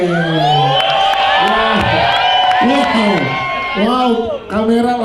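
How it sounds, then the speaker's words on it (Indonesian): Audience at a gala premiere cheering, whooping and shouting loudly in a dense, close crowd roar for a performer, with a few voices calling out above it. "terima kasih tepuk tangan buat Niko"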